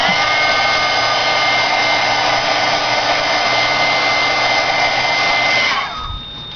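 A heat tool blows steadily to dry archival ink on a craft card, a loud constant whirring hiss with a high whine that cuts off near the end.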